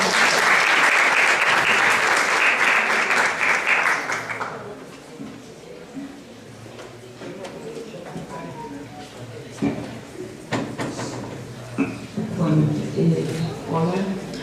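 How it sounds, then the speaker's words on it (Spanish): A warm, dense round of audience applause welcomes a professor from the University of Buenos Aires and lasts about four seconds. It then fades as a speaker begins talking. "Le damos la bienvenida con un caluroso aplauso de buenos días también."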